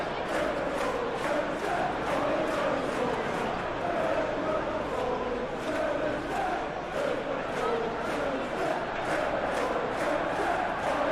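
A stadium crowd in a Premier League football video game, Manchester United against Aston Villa, roars in a steady, dense wash, with chants rising and falling evenly throughout and no single voice standing out.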